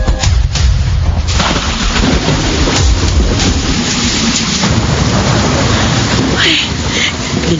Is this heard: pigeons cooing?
no